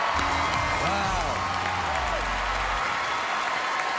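Audience applause and cheering at a televised talent show, dense steady clapping with whoops and shouts rising over it, loud and continuous while a voice briefly speaks or calls out near the start.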